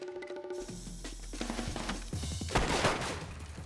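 Rapid gunfire in a film scene, a burst of sharp cracking shots growing denser and louder toward the end, heard amid other scene noise.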